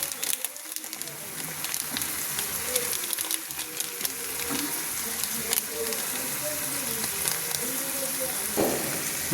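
Bombay duck fish fries with chili powder and Kashmiri chili in a pan, a dense continuous sizzle with crackling pops and some faint background noise throughout.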